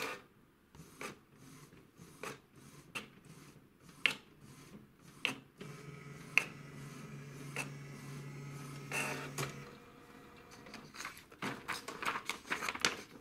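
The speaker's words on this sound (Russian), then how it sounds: "Видим, как печатает наш принтер." A Canon PIXMA MG-series inkjet printer runs a copy job, giving a quiet series of mechanical clicks and ticks, then a steady low whirring feed for several seconds, followed by a burst of faster clicking as the page finishes.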